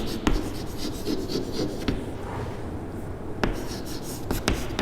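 A pen or marker writes out a maths problem on a close surface with continuous scratchy strokes and brief taps, carrying on for several seconds over light room noise.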